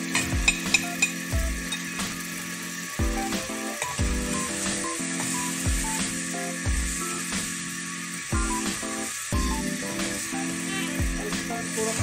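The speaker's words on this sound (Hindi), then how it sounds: "और इसको थोड़ा सा भून लेंगे।" Spices with salt, turmeric and garam masala sizzle and fry in a pan for a potato and lamb curry, a steady close sizzle with repeated stirring and scraping knocks throughout, no talking.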